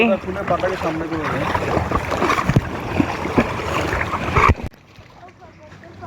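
A small boat moves across the water toward a sea cave near James Bond Island in Phuket, with a steady wash of water and wind noise and louder splashes that drop away near the end.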